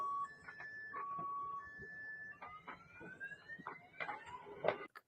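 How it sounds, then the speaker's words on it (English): Siren wailing with rising and falling tones and car alarms going off in the background after an explosion at a Moscow oil refinery, faint and distant amid scattered crackling noise. "You can hear the siren, the car alarms in the background going off"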